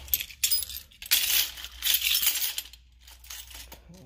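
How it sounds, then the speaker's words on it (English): Keys jangle and clink close by in several bright, metallic bursts, shaking on and off for a few seconds. "These damn keys I gotta eliminate these keys, man."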